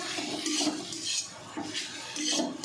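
Fish air bladders from a katla fish being sautéed with spice paste in a pan, with repeated scraping and clinking of a utensil against the pan in short bursts over a soft background hiss.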